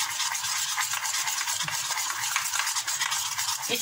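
Batter stirred round and round in one direction, a continuous close swishing and rubbing texture with steady rhythm and no voices.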